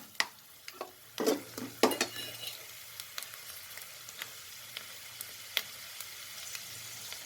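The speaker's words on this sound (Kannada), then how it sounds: "ಈಗ ಶೇಂಗಾ ಸ್ವಲ್ಪ ಫ್ರೈ ಆಗಲಿ." Peanuts fry in a pan with a faint, steady sizzle, punctuated by sharp scraping strokes and clicks of stirring that fade to sparse taps.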